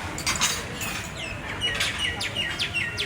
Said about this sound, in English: And the little birds are so tame.